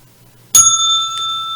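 A single bell strike rings out loud and close after a near-silent moment, its bright metallic tone sustaining and slowly fading.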